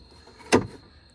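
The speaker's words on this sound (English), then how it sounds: "when I try to lock my door" A single short mechanical clunk comes from the door lock of a 1995 Chevy Blazer with the mirror cover removed, sharp and close in an otherwise quiet setting, with no voices.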